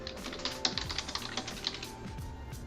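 Light, quick taps on a computer keyboard as a name is typed into a search box, a brisk run of close keystrokes over a soft background hum.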